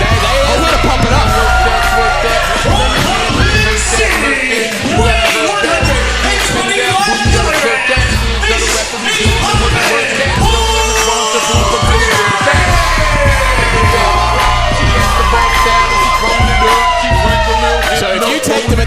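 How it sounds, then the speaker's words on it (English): Loud, dense crowd roar and yelling fill a sold-out community center during a wrestling show, sustained throughout with whoops and shouts layered over music. "And the crowd here at the sold-out Tie-Up Community Center, they are responding."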